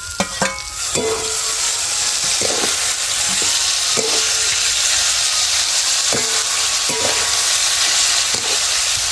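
Peanuts and tomatoes fry and sizzle in oil for kanda poha, a steady close hiss broken by a spoon scraping and stirring the pan every second or two.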